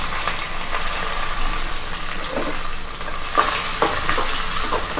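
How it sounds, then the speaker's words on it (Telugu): Onions, green chillies and curry leaves fry in a pan with mustard seeds for an egg and tomato curry, giving a steady close sizzle with occasional stirring scrapes and small crackles throughout. "ఎర్రగడ్డలు, పచ్చిమిరపకాయ, కరింపాకు అయితే వేసేసుకొని వేయించుకోవాలి"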